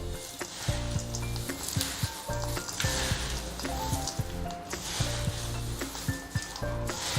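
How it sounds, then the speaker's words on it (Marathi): Thin poha chivda is tossed with powdered sugar, a soft continuous crackling and rustling of dry flakes with scattered light ticks, faint and close. "सगळं पदार्थ आपण मिक्स करून घेऊ"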